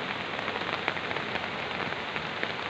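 Steady rain by the Boyong River on the slopes of Merapi, a dense even hiss of drops striking surfaces, continuous and moderately loud with no voices.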